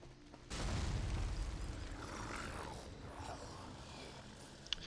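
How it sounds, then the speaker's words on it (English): Explosion in the video game The Elder Scrolls Online, a sudden deep boom that swells into a long rumbling roar with fiery crackle, filling the space before fading under a faint click near the end. "Seems like an explosion."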